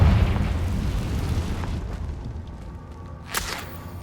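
Explosive spell cast in Hogwarts Legacy outside a cave: a loud, rumbling blast with low boom that decays over a few seconds, followed by a short bright burst near the end.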